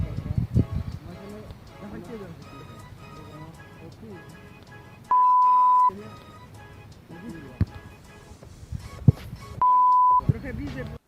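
Two long, steady censorship bleeps cut into edited footage, each lasting under a second at a flat tone, interrupting people talking and laughing around them.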